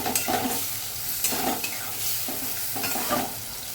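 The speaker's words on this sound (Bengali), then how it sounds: "কড়া গরম হয়ে গেছে, এবার আমি মিশ্রণটি ঢেলে দিলাম। এবার একটু নেড়ে ছেড়ে" A spice mixture for sorshe chingri, mustard prawns, hits a hot pan and is stirred: a continuous close sizzle with rhythmic scraping strokes of a spatula every second or so, no voices.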